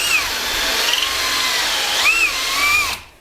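A drill cuts with a Luna BIM LBH-2 bimetal hole saw at high speed, its steady grinding whine holding loud and close for about three seconds with rising and falling pitch sweeps before it stops abruptly.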